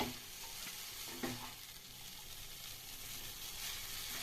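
Egg noodles being mixed in a pan, with a soft continuous sizzle and faint scraping stirs, a brief clatter partway through, quiet and close with no talk.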